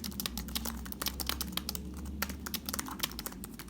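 Soft, rapid typing on a chiclet-style keyboard, a steady patter of muted key taps close up with no voices, compared against a Keychron K1 version 2.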